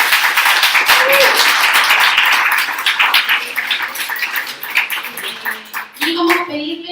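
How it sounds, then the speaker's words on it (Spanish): An audience at a citizens' forum of the Colegio de Periodistas in Concepción applauds, a dense wash of clapping that is loud at first and thins out toward the end, with a voice speaking at the close. "Un aplauso por favor."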